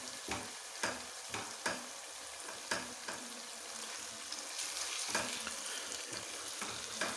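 Aloo gobi, potatoes and cauliflower, frying and sizzling in a pan, a continuous hiss punctuated by repeated sharp scraping stirs of the spatula, moderately close with no talking.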